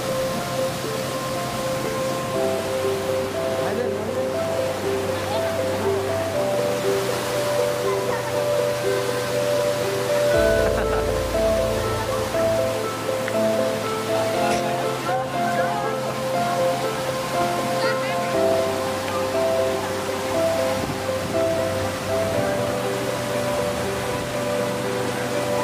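River water rushing over natural rocks from the mountains at Bengkelung Park in Pekalongan, a loud continuous broadband roar that holds steady throughout with no pauses.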